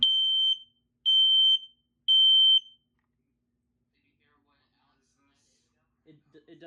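A modern smoke alarm under test sounds its standard code 3 pattern: three loud, shrill, evenly spaced beeps, then silence, followed by faint voices at the end.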